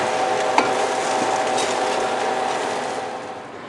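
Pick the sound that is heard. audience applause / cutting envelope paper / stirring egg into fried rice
stirring egg into fried rice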